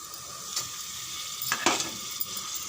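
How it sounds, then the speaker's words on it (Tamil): Mint leaves sautéed with biryani masala in a pan for veg biryani, heard as a steady faint sizzle with a few scraping stirs of a spatula. "இது கூடவே இந்த புதினாவும் சேர்த்து நல்லா வதக்கிடலாம்."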